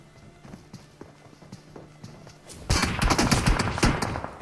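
Gunfire from an M416 water blaster in the mobile game BGMI, with scattered single shots and then a loud, dense burst of rapid fire in the second half.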